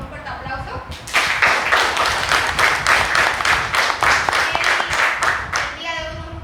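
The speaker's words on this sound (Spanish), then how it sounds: "Le recibimos por favor con un fuerte aplauso." University audience at a philosophy and politics talk breaks into loud applause welcoming a speaker, dense clapping rising after a brief voice and fading at the end.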